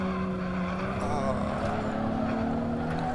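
A 2004 stage 3 BMW M1 running fast on a wintry Nordschleife: a steady, loud engine roar with a sustained droning tone from inside the car, continuous throughout.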